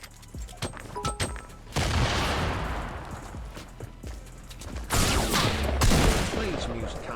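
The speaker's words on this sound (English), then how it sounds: "They just keep shooting at him." Rapid gunfire bursts in the Fortnite battle royale video game, sharp clustered shots at first, then long sustained volleys of fire, loud and close.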